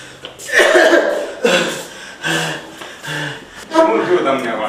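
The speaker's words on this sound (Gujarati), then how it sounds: "કેટલા ટાઈમથી ઉધરસ આવે છે?" Repeated coughs from a patient in a clinic consultation skit, several short bursts spread over a few seconds, close and fairly loud, with voiced, throaty edges.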